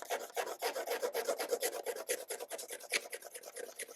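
Steady, rhythmic rasping as the crazed coating is scratched off a car headlight lens, with quick repeated strokes, close and fairly loud, with no talking.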